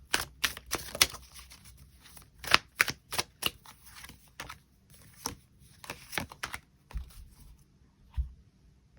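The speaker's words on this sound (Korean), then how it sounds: "추가 카드 뽑아보도록 하겠습니다" Tarot cards shuffled and drawn from a deck, giving a run of quick, crisp papery snaps and flutters at close range, coming in uneven bursts with short pauses and no talking.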